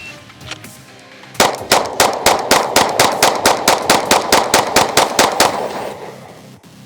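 Agency Arms Glock 19X pistol fires a rapid, evenly spaced string of about sixteen loud, sharp shots with metallic ring, then falls quiet; no talking.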